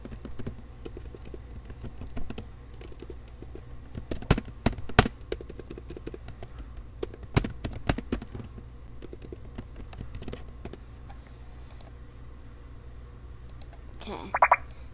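Typing on a computer keyboard comes in scattered bursts of crisp key clicks, some sharper strokes mixed with quieter pauses, close and faint against low background hum.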